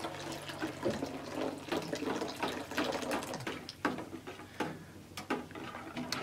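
Rennet solution being slowly poured into milk while a whisk stirs it for hard cheese: continuous close liquid swishing and trickling with rhythmic clicking taps of the whisk against the pot.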